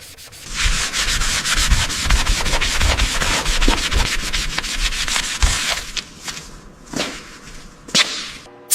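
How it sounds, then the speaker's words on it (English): Sanding heavily oxidized metal on the mid-boiler section of a Percy model, a loud close rapid rasping scrub in quick repeated strokes that breaks into a few separate passes near the end. "getting into the sanding now. This mid-boiler section is heavily oxidized"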